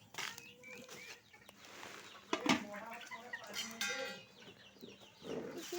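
Chickens cluck in a Bengal village yard, soft and close with a few sharper calls in bursts, and faint voices occasionally underneath.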